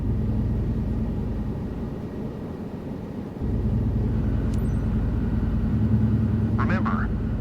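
Cabri helicopter hovering a couple of feet above the ground in Microsoft Flight Simulator 2024, a steady low rotor and engine drone that stays loud throughout and swells slightly midway, with brief higher tones near the end.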